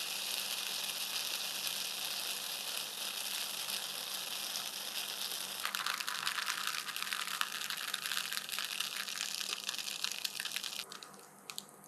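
Thin tuile batter sizzles steadily in a hot pan, a continuous close hiss that swells slightly partway through and then fades near the end, with no voices.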